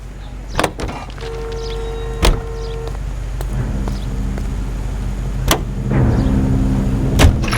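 A car engine in the L.A. Noire video game hums at a low, steady pitch while driving, with a few sharp clicks and knocks on top. No one speaks.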